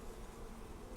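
Honeybees hum inside an open hive during an outdoor check in a subarctic apiary, a close, steady buzzing drone that fills the brief moment without any talk.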